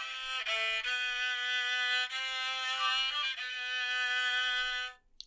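A bowed fiddle moves back and forth between two sustained notes, with smooth, steady strokes that fade out at the end.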